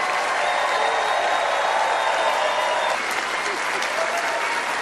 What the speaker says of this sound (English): Please join me in giving Meryl Streep a totally undeserved round of applause,